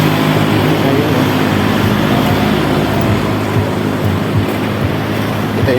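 Sea surf at Pagudpud, Ilocos Norte washes in as a steady, loud, broadband roar, with soft rumbling underneath and no voices.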